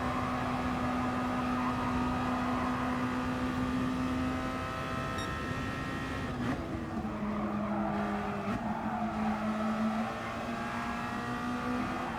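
Red Bull X2014 Junior race cars lapping Big Willow at Willow Springs, a steady, continuous engine drone with pitch shifts as the cars brake and accelerate, loud and close throughout with no talk.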